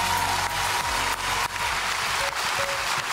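Studio audience applause for dance contestants on a televised dance competition, a steady dense wash of clapping that continues throughout without any voices.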